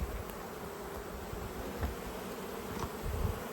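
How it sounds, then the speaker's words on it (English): Bees buzz continuously close by in an apiary, a dense droning hum with occasional louder passes as individual insects fly near. "It's really hard to put gloves on when bees are flying into your house."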